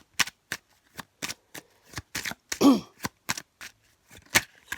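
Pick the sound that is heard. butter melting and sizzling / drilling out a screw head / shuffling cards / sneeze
shuffling cards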